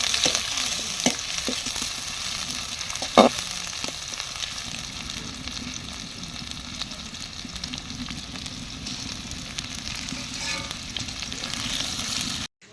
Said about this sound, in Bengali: তো পেঁয়াজটা ভালোভাবে ভাজা হয়ে গেছে